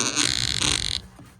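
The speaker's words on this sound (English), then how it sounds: "It sounded like the phone farted." A phone notification sounding like a fart, a short buzzy blurt lasting about a second, close and fairly quiet, indoors beside an iguana tank, with no speech.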